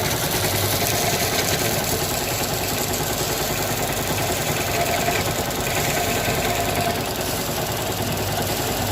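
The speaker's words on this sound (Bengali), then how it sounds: "এই যে দেখছো এই যে মেশিন চলছে" A paddy threshing machine runs continuously with a dense, rattling mechanical drone and steady vibration, close and loud, with no pauses.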